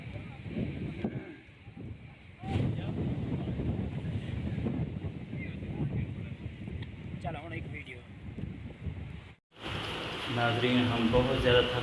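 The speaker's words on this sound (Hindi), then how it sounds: "यहाँ पे आप देखें बहुत ही तेज़ हवा चल रही है और वो भी ठंडी ठंडी।" Strong, cold wind on the mountain Chengel (Khummbi) buffets the microphone in a loud, continuous rumble that swells and dips. A voice is heard at times over it, and the wind drops out briefly near the end.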